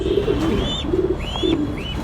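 Sirazi pigeons, a pair kept with their chicks, give soft, low repeated coos close by, with a few faint higher chirps over a steady background hum.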